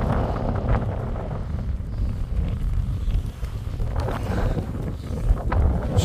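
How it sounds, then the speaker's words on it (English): Strong wind roars across a high fell at Bonscale Pike in the Lake District, buffeting the microphone in a loud, constant low rumble with gusty swells and no voices. "it's very windy here in this spot"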